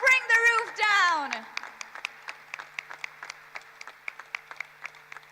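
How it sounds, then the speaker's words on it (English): Clapping at a stock exchange listing ceremony starts just as an announcer's amplified voice finishes, then settles into light, scattered applause from a modest crowd that carries on to the end. "can we have a thunderous, thunderous round of applause and bring the roof down?"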